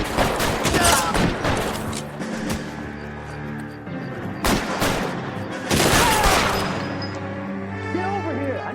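Gunfire in the video game L.A. Noire, loud rapid bursts of shots and booming impacts in bunches, with a voice and game dialogue under the shooting.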